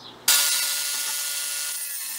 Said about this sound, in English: Whilst cutting these legs off, I worked out I really enjoyed cutting up things with the angle grinder.